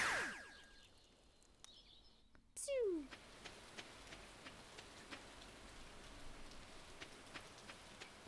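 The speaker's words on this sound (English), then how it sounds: "I'm tired of the rain." Steady, soft rain falls in the Stardew Valley video game as an even hiss, with a few brief tonal game effects near the start.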